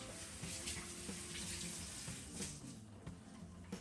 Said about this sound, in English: After we do this, I wash my hand first.